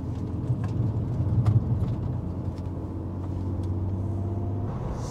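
A car with a restored, polished exhaust idling from inside the cabin, giving a steady low rumble with little variation and no talking.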